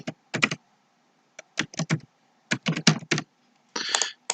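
Typing on a computer keyboard while building a worksheet, heard as short clusters of crisp, close key clicks separated by pauses, with a faster burst near the end and no talking.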